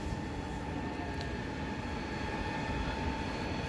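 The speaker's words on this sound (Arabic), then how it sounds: "القطار داخل اهو." A Cairo metro Line 2 train pulls into Al Shohadaa station, a steady low rumble and hiss of wheels with faint high squeals and a constant tonal whine, filling the platform without talk.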